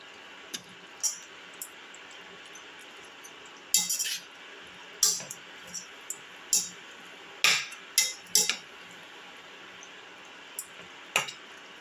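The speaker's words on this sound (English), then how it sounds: "Keep on sauteing." Ingredients for Perumchoru, an ancient Chera war-feast dish, are sauteed in a pot, giving a soft steady sizzle broken by a dozen sharp metallic clinks of a utensil against the pot at irregular intervals.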